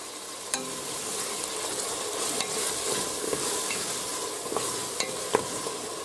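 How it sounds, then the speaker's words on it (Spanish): Tomato being stirred into a potato, vegetable and meat stew in a pressure cooker pot, a soft continuous sizzle with a few sharp clinks and scrapes of the utensil, close with no voices. "ahora echamos el tomate. Lo movemos un poquito."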